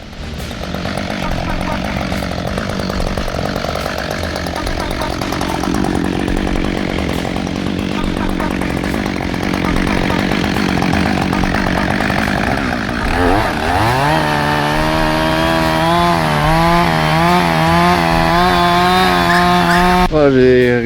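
A loud chainsaw buzzes continuously, cutting wood outdoors in snow, its pitch dropping and steadying into a harmonic drone as the cut deepens; a voice briefly talks underneath.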